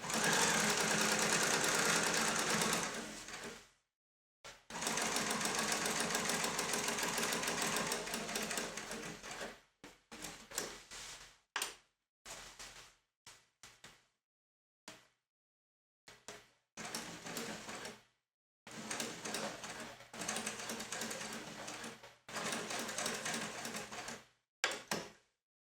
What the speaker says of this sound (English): The return run is much easier as there are no lumps to machine over.